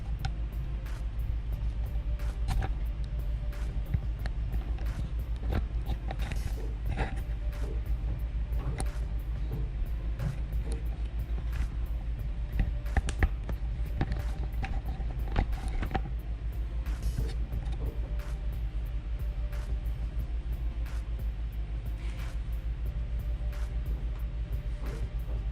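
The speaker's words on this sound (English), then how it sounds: "Got some room noise going on. AC's running. Printer's running." Room noise from an air conditioner and a printer running together, a steady low hum with faint clicks and ticks, constant and quiet for the whole stretch, with no talking.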